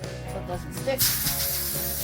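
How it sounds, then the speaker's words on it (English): A can of Pam cooking spray hisses in a short, close burst onto a foil-covered baking pan, a steady spray of about a second. "Spray it with Pam or anything else you want to put on there."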